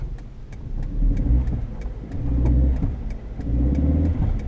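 A 2001 Vauxhall Agila 1.2 16v small petrol hatchback pulls off with the handbrake still engaged, its engine revving in strained surges that rise and fall three times, close and loud with no talking.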